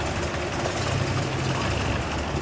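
A 1932 Rolls-Royce Phantom II Continental idles, its engine and exhaust giving a soft, low, even rumble with steady fine pulsing, quiet and close by.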